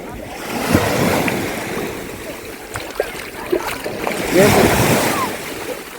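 Sea waves at Zeytinbeli public beach in Yumurtalık, Adana, wash in and out steadily, with surges near one second and again near four and a half seconds, and wind buffets the microphone.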